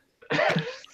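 A single short, close cough with a rough, throaty burst, heard alone against silence.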